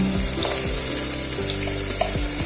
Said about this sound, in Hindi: तेल गर्म हो चुका है। अब हम इसमें प्याज को डाल रहे हैं।